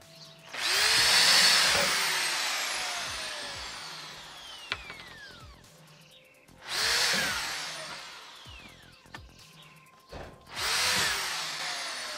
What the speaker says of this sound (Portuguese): eu já estou aqui com a minha madeira marcada e com a minha furadeira na mão